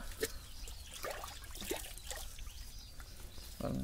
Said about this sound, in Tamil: அரை டப்பா தண்ணி ஊற்றணும் இதில்